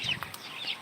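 A native chicken kept as a brooding hen gives a couple of short, soft clucks, fairly close in a backyard farm setting, with low background noise and no talk.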